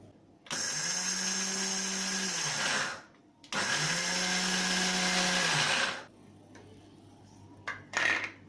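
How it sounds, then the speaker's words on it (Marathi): Kitchen mixer grinding drained rice and mung dal without water whirs loudly and close in two bursts of about two and a half seconds each, followed by faint clattering. "थोडंसं आपल्याला मिक्सरमध्ये फिरून घ्यायचं आहे"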